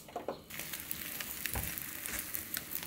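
Beaten egg topped with minced shepherd's purse sizzles gently in a pan over low heat for a rolled omelette, a soft steady crackle with a few light scrapes, fairly faint and without talk.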